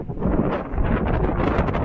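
Loud wind at a mountain pass roaring and battering the microphone, a continuous low rumbling blast without any voices.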